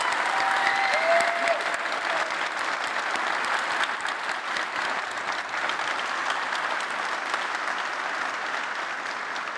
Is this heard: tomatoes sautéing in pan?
no